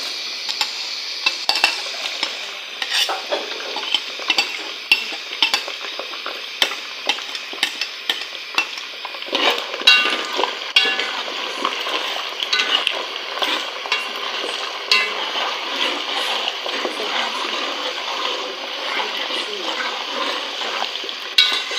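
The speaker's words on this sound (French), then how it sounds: "Bien faire frire le tout de 5 à 6 minutes." Smoked fish, onions and chili frying in a pan for a Cameroonian Nkwa Zap dish, a constant close sizzle with frequent scrapes and taps of a stirring utensil.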